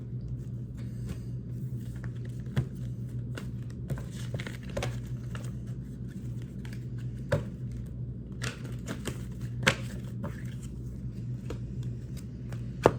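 Tarot cards being shuffled: a soft, continuous riffle and patter of cards with occasional sharper taps, quiet and close over a low steady hum.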